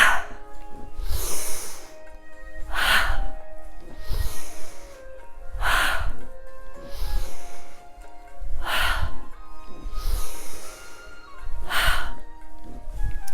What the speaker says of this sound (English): it's a big sharp inhale through the nose and a lifting to the sky, a big release of the arms and the exhale as you come down